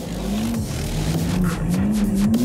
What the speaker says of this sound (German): Oh, schon wieder Wheelspin.